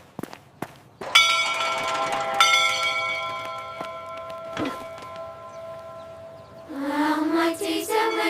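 A school morning bell in a children's animated mystery rings twice, with loud metallic strikes whose bright tones hang and slowly fade. A different, busier sound follows near the end.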